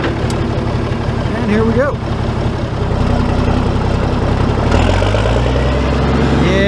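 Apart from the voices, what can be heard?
Farmall 806 tractor engine running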